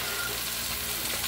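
Chicken stew fries in a pot while a spoon stirs it, giving a brief, steady, close sizzle with soft stirring texture and no voices.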